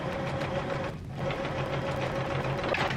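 A sewing machine runs steadily through dress fabric at close range, a continuous even motor hum with rapid stitching that dips briefly near the start, then carries on alone without talk.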